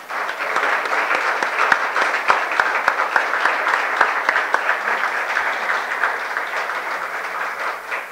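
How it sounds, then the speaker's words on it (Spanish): Strong applause from an audience at a youth congress, a dense steady wash of clapping with a few sharp louder claps standing out, sustained throughout. "vamos a darles un fuerte aplauso por favor a todos estos jóvenes"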